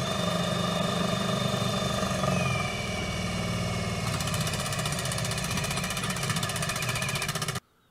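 A Ryobi compact drill/driver runs on high speed during a torque test, a loud, steady motor whine that holds with little change for several seconds and then cuts off abruptly.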